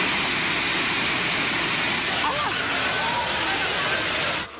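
A deadly torrent of floodwater, mud and debris surges through city streets in Petrópolis, Brazil, after heavy rain: a loud, continuous rushing roar with faint voices barely audible under it.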